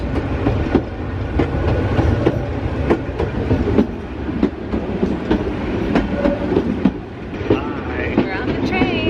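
A passenger train rolls along its rails with a steady, loud rumble and a regular clickety-clack of wheels over rail joints, heard from outside the car on a river cruise excursion, with faint voices now and then.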